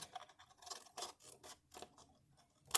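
Scissors snip through paper craft material for a Marie Antoinette shoe and box project, a series of close, crisp cuts in uneven rhythm with short pauses between them.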